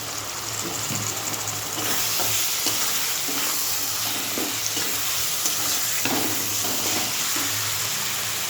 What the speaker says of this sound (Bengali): আর মশলা তো কষানো হচ্ছে